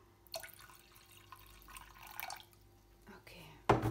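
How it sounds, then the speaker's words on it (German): A splash of water is poured into a potato and spinach gratin dish with almond milk, a faint trickle and drips ending in a brief louder splash close by, with soft voice sounds. "Ich mache einen Schluck Wasser dazu."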